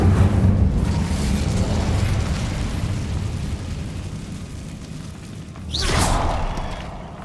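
Incendio fire spell cast in Hogwarts Legacy, a rumbling roar of flame and low bursts, then a sudden whooshing flare and swell near the end, no voices.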